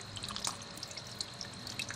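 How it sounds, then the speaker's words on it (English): Water drips and trickles from a hand-pressed paper pulp log, faint scattered droplets and light splashes over a soft background hiss, close and quiet with no talking. "Let's see if you can see the water coming out here."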